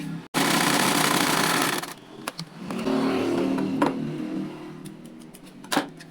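Sewing machine running in steady bursts as it stitches blouse fabric toward the facing, a loud continuous mechanical whir that pauses briefly, then resumes and slows with a few clicks near the end.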